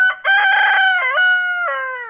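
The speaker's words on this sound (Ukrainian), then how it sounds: "Півник, давай. Кукарикай, ну." A rooster crows loudly and close, one long drawn-out call with a brief break and rising, wavering notes, heard alone.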